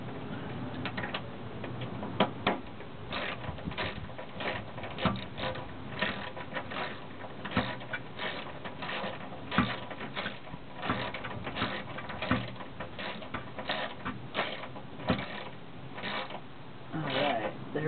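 A socket wrench ratchets with rapid, continuous clicking, close and fairly faint, while a wiper pump is tightened on a Westfalia windshield washer setup; a voice talks now and then.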